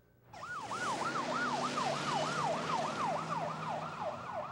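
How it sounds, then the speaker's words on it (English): Ambulance siren close by, wailing in a fast, steady rise-and-fall sweep that starts abruptly and keeps repeating over a background of road noise, with no voices. "Dustin's grandmother, Norma Chico, rode in the ambulance with her daughter, Stephanie."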